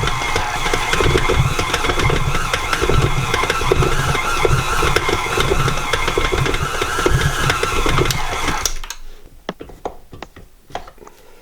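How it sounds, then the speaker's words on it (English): A stand mixer churning sugar cookie dough on slow speed, a steady rumbling whir with rhythmic knocking that runs loud and continuous, then cuts off, leaving a few faint clicks and taps. "add it slowly to your mixer while your mixer is going on a slow speed"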